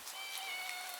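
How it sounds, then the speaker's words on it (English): Steady hiss of rain pattering in a video game alley, continuous and fairly soft throughout, with a faint high tonal line running underneath. "Rain's picking up."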